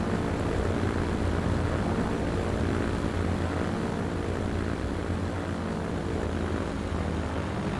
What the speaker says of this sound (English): Go, and we have liftoff.